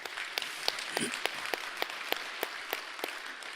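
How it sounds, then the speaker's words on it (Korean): Sparse, distinct claps ring out in a fairly regular rhythm, sounding like a small audience applauding at an academic award ceremony, with a faint voice underneath. "조성태 교수님께 다시 한번 큰 박수 부탁드리겠습니다"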